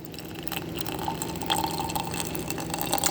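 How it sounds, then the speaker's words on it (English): Water poured into a jar holding green onion roots, a close trickling and filling with small drips and splashes, quiet and steady with no talking. "you're going to go ahead and add in some water"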